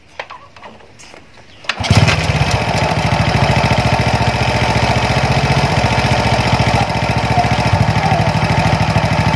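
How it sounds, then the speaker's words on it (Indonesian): A Honda Astrea Grand motorcycle engine rebuilt with a bored-up Vario 125 piston fires up after a brief quiet moment and settles into a loud, close, steady rapid thumping idle that runs unbroken. "kita motornya sudah kembali utuh seperti semula dan kita akan coba hidupkan"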